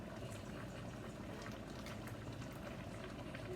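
Fresh homemade noodles bubble in a pot at a steady, even boil, a constant low churning texture with no voices.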